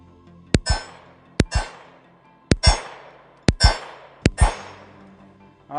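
Five gunshots ring out at irregular intervals, each followed almost at once by a sharp metallic clang of the bullet striking a steel target, loud and close with a short ringing decay and no talking.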